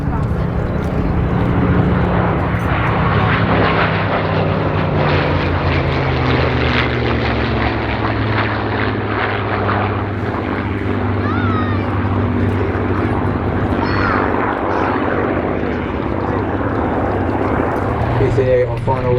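Warbird aircraft passing at an airshow at Sywell, a steady loud propeller-engine drone with low harmonic tones slowly shifting in pitch as it flies by, continuous throughout with crowd or commentary voices underneath.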